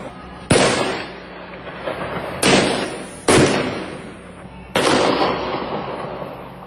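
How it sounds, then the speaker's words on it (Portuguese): Several loud gunshots ring out as criminals fire at a police patrol, sharp cracks at uneven intervals, each followed by a ringing echo over a quiet background. "é possível ouvir quando os bandidos atiram contra a guarnição"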